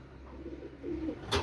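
Pakistani high flying pigeons give soft, low cooing, faint and close, with a short noisy burst at the very end.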